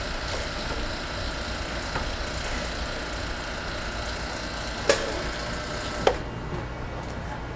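A vacuum system with a diffusion pump pumping down to hard vacuum gives a steady, close mechanical hum with a faint whir, broken by two sharp clicks a second apart near the end.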